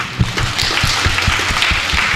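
A church congregation at a Catholic Mass for the PPYK sisters claps steadily, the dense applause filling the space with rhythmic hand slaps from start to finish.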